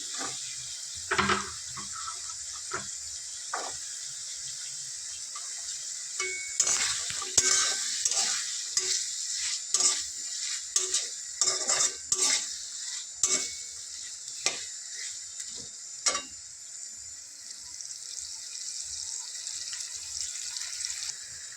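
Peas are tipped into a hot frying pan and stirred, a steady high sizzle running throughout with repeated sharp scrapes and clinks of a spoon against the pan, busiest in the middle stretch, with no talking.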